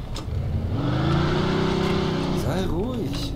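A car engine revs up and accelerates with a rising, wavering whine in the video game Mafia 2, loud and close, while a voice talks over it.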